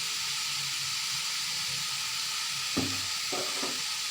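Pumpkin fry with turmeric and chili powder sizzles in a pan, a steady hiss with a few stirring scrapes near the end, close and faint.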